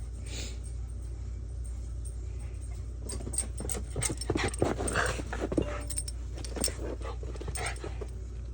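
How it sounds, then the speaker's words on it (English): A dog whimpers faintly and shuffles about indoors over a steady low hum, with scattered clinks like jangling tags and soft movement sounds, no talk. "This dog."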